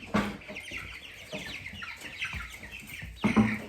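Several hens cluck and murmur close by in bursts, with short sharp calls breaking in now and then against a quiet background.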